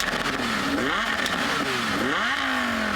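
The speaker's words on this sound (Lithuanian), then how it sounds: "V10 varikliai pasižymi ypatingai geru garsu." Naturally aspirated V10 engine revving hard, its pitch sweeping up and down in repeated climbs and drops, loud and close with a rasping, layered tone throughout.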